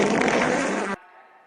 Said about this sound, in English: mine was a much more bubbly fart